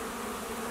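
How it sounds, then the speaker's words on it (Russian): A swarm of honeybees moving into an empty hive makes a dense, steady buzzing drone that fills the whole moment evenly, close by and without any voices. "это чужой рой прилетел и решил заселиться в один из моих ульев"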